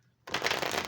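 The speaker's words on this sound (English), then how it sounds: "I should probably do a proper shuffle." A deck of tarot cards gets a quick riffle shuffle, one short close burst of flapping, rattling card edges after a moment of quiet.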